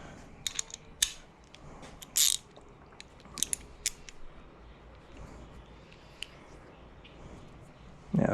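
Scattered sharp mechanical clicks and ratchet-like bursts while a tensioner is tightened on a 2009-2017 Toyota Camry engine during intake cam gear replacement, fairly close and quiet, with pauses between short clusters and no talk.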